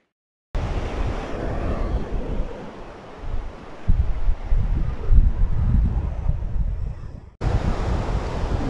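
Waves break where a river joins the sea at Puerto Vallarta, a steady rolling surf wash with a few louder surges and wind rumble, starting after a moment of silence.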